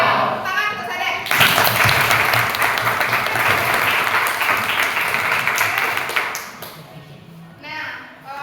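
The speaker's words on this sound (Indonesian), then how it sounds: "tepuk tangan untuk saya" Classroom applause during an Indonesian lesson on historical novels: after a brief stretch of talk, loud dense clapping breaks out, holds steady for several seconds, then fades as a voice resumes speaking.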